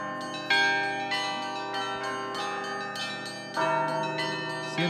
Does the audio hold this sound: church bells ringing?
yes